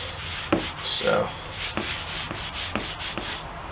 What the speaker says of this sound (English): I'm just going to wipe the axe head a little bit